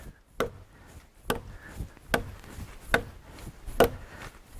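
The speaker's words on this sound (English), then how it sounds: "Would you imagine taking your butcher knife out and chopping a log in two?" Sharp, heavy chopping blows of a butcher knife biting into a hardwood log, about six strikes at a steady, unhurried pace, close by with no talking.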